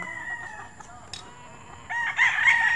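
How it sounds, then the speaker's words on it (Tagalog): A rooster crows nearby in a backyard poultry yard, a long rising call building toward the end, with fainter crowing from other roosters in the background. "At marami na pala ditong mga alagang tandang."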